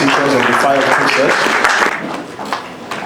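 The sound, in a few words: audience applauding a comedian coming on stage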